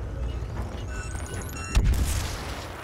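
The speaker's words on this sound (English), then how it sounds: "That guy throwing grenades at me?" A grenade blast booms once in the snowy Frostfall battle of Star Wars: Battlefront, sounding heavy and fairly close. It follows a stretch of rumbling combat and thin whistling tones, then fades.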